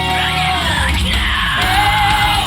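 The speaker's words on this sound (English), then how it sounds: "I love the choice there where you get the really big scream" A female vocalist lets out a huge sustained scream in a metal cover. The loud, raw yell holds steady for a couple of seconds over the dense, full band.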